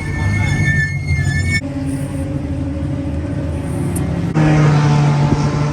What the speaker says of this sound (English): There goes Sebastian coming around